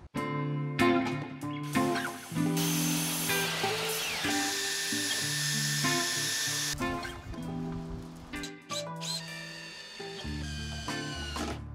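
A power drill whines in bursts as screws are driven through 2x4 wood scraps into horizontal 2x4 framing for an outdoor shower, the motor pitch rising and falling across several close, loud runs with short pauses between.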